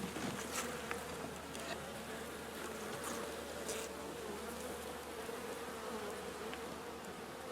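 Honey bees buzz steadily around open hive frames during an inspection in Zakarpattia, a dense, continuous drone close to the ear with no talk over it.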